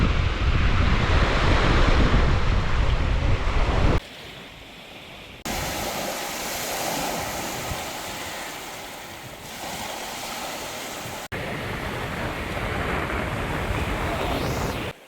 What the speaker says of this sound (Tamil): கடல் அலை அடிக்கிற மாதிரி அடித்து கொண்டிருக்கு.